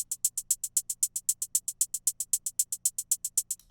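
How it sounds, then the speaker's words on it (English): Trap-beat hi-hats tick in a fast, steady roll of crisp, bright hits with alternating velocities on every other hit, giving a pulsing loud-soft pattern, alone without talk. "The hi-hats are going to sound like this."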